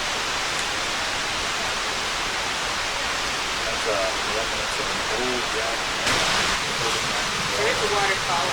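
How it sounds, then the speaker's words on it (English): Steady, broad rushing water roars continuously, like a nearby waterfall, with faint chirps and brief higher-pitched bits scattered over it. "There's a waterfall up that way"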